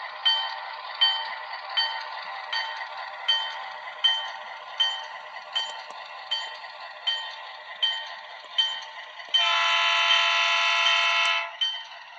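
A model train horn sounds in a series of short, evenly spaced toots, then one long sustained blast near the end, with no talking.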